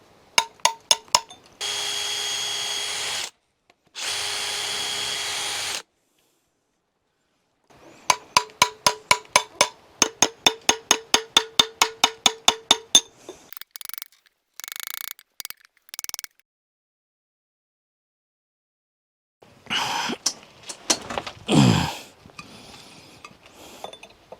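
Scraping and chipping material off a roof during a renovation, with long harsh grinding scrapes, then a rapid run of sharp clicking chips, then scattered knocks and clatter, loud and close, separated by silent gaps.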